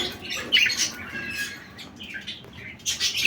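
Pet birds at a breeding farm, a male beside a yellow female sitting on eggs, amid stock such as cockatiels, sun conures, lovebirds and budgerigars, give bright overlapping chirps and squawks in quick bursts, fairly close, with no one talking.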